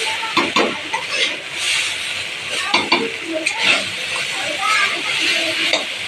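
Vegetables frying in a pan for an evening snack, a continuous bright sizzle with intermittent stirring scrapes and utensil knocks, a voice speaking over it.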